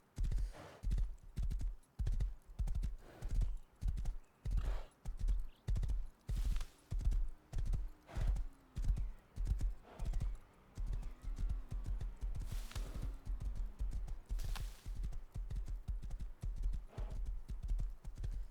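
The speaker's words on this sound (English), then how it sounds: "Downside of the horses is they are super loud though." Horse hooves clip-clop in the survival game Rust, a fast, steady galloping rhythm of loud close hoofbeats that continues throughout, with a faint whinny partway through.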